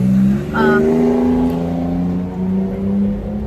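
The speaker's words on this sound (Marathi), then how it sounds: "गाडीचा आवाज" A car engine hums and revs as the vehicle sets off on a trip, a loud, steady droning tone that rises and falls slightly over a few seconds.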